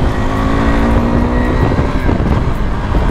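A KTM 390 motorcycle revs hard and accelerates, its engine a loud, close, buzzing roar, with wind buffeting the microphone.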